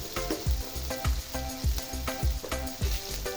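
Thick-cut new onions fry in a pan toward browning, making a steady, loud sizzle up close, with rhythmic stirring scrapes recurring about every half second.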